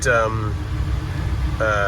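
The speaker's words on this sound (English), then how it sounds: "The car's just idling right now" A first-generation Toyota Tundra engine idling with a steady, low, even rumble close to the microphone, with short vocal sounds at the start and end.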